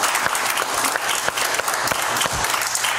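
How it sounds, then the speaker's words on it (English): Church congregation at a Sunday Christmas Eve service claps together, a lively, sustained burst of many hands with a few sharper individual claps standing out, alone without speech. "Give the Lord a hand clap this morning."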